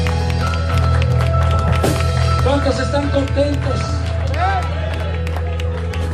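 A church congregation claps and cheers in a dense, sustained burst of applause alongside crowd noise, while a preacher speaks over it through a loud amplified system.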